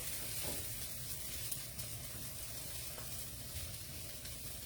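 Fried rice sizzles steadily in a hot pan while being stirred, giving a dense, continuous crackling frying noise with faint scraping and no pauses.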